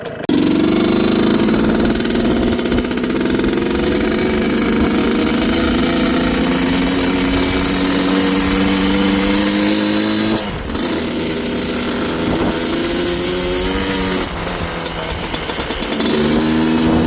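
Yamaha Blaster ATV engine on a snow-covered road, loud and close, a steady buzzing idle with rising revs and a few short throttle blips and dips toward the end, no voices.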